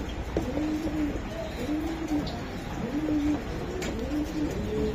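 A racer pigeon coos nearby in repeated rolling calls, about four phrases spaced roughly a second apart, clear over a faint background hiss.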